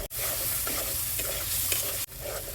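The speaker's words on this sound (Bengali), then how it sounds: "ভেজে নেব মশলার সাথে শুটকিটা" Dried fish fried in oil with spices in a pan, a loud, steady sizzle filling the whole clip, with stirring scrapes throughout and brief breaks near the start and near the end.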